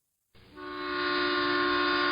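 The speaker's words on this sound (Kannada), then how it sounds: "12:10 ರೈಲು ಬಂತು." A train arriving at a railway station at night sounds a loud, sustained horn that swells in and holds a steady, bright tone, alone with no talk.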